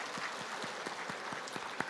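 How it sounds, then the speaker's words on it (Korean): A church congregation at a Sunday morning service claps, with a few prominent, evenly spaced hand claps standing out over a softer, steady spread of clapping. "먼저 힘차게 박수해 드리시고"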